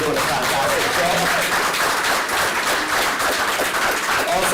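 Audience applause for the panelists at an evening track and field alumni panel discussion, a steady dense wash of clapping at even loudness throughout, with some voices mixed in underneath.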